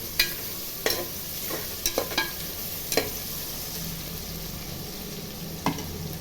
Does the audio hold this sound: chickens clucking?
no